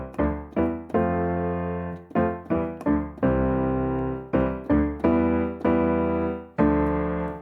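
A piano plays the simple chord shape from a song's piano part below middle C, with sustained block chords repeated in a slow, loud, close rhythm.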